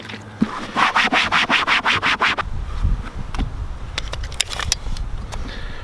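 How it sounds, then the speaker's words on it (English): A cloth wet with rubbing alcohol is rubbed back and forth across an RV roof, about ten quick, rhythmic scrubbing strokes up close, then quieter scattered shuffles and taps. "I'm going to clean this area with a little bit of rubbing alcohol"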